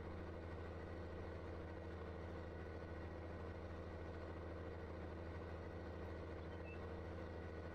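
Steady, unbroken engine drone of a tractor pulling a cultivator across a field in Farming Simulator 19, a low rumbling hum at constant loudness throughout, with no voices.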